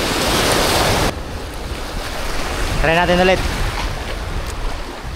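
Strong wind roars across the microphone on a small fishing boat at sea off Sabang, a dense, constant rush over lapping water, with someone speaking briefly through it.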